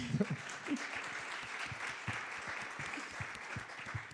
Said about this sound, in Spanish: Ese aplauso es muy eh, perfecto para este momento.